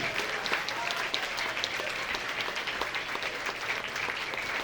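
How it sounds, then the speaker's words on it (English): Crowd at an outdoor puzzle unveiling applauding, a dense, even wash of clapping heard at a moderate distance and sustained throughout. "So everybody give a round of applause for Ruby"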